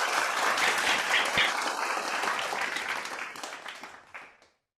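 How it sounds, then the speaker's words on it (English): A round of applause during a virtual MacVicar Day meeting, dense clapping from several participants over unmuted microphones that gradually thins and fades out before ending abruptly. "we're going to give a round of applause to Polina."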